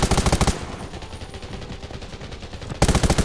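Gunfire in Undawn, with loud rapid automatic bursts at the start and end and a quieter stretch of distant, steady shooting in between.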